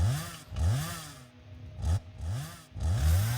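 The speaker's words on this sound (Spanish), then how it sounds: "vamos a con la motosierra. Rápido liberar todo el campo acá" Chainsaw in the video game Satisfactory clearing a field, with repeated revving bursts in a rough rhythm, loud and close, with no talk over it.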